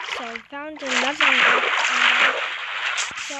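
River water splashes in the Minecraft video game, a short burst of sloshing under continuous talking.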